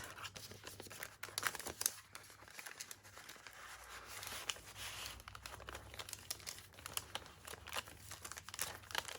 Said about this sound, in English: So I'm just going to fold this so that you can see the print through the envelope.